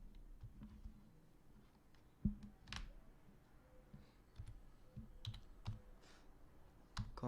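Computer keyboard typing during data entry, with soft scattered key clicks and a few sharper taps at irregular intervals, faint and close with a quiet background.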